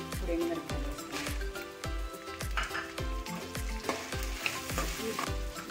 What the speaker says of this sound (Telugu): ఇప్పుడు ఎండుమిరపకాయలు వేసుకున్నాను.